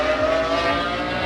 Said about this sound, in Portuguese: nada como um 12 cilindros